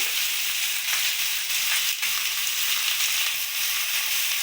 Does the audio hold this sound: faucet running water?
no